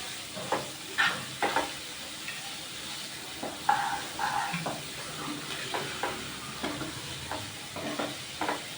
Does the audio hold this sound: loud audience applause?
no